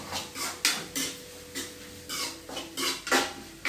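Ginger, garlic and tomato are stirred in a pan, giving a series of scraping, clinking spoon strokes at an uneven rhythm, close and fairly quiet, with a faint steady hum underneath.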